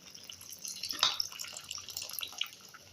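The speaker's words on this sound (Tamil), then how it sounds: "இப்போ நம்ம கரைச்சி வச்சுருக்க புளி தண்ணியை இதை சேர்த்திக்கலாம்." Strained tamarind water is poured into a pot of simmering radish sambar, a close, thin trickling splash that swells briefly, then settles into light dribbling and drips.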